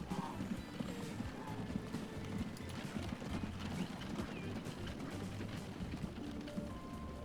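Horses pull a carriage in the transport game Transport Fever 2, with steady repeated clip-clop hoofbeats, occasional whinnies and a continuous low rumble of movement.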